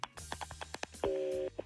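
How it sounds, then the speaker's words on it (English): A telephone call being dialed on a radio show: a quick run of short touch-tone beeps followed by a sustained steady tone, then a final blip, clear and close. "Let's make the phone call to Cody"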